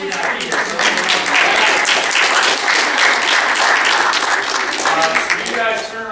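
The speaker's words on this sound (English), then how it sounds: "You guys, make sure you give a quick round of applause to your parents" Loud, close applause breaks out at a high school track awards gathering, a thick wash of clapping hands that holds steady for several seconds with some voices talking beneath it.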